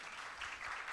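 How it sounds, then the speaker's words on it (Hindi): A church congregation clapping together, a brief dense burst of applause from many hands, fairly soft and heard without speech. "तालियां बजाकर विश्वास घोषणा कीजिए"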